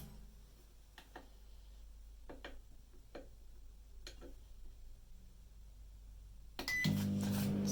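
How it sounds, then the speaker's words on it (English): A microwave oven heats a cup of tea in a kitchen, a low steady hum with scattered ticks and clicks, ending in a sudden louder burst of sound near the close. "Let's get this tea into the microwave."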